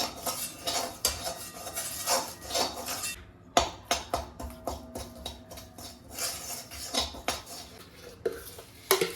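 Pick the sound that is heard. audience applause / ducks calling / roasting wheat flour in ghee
roasting wheat flour in ghee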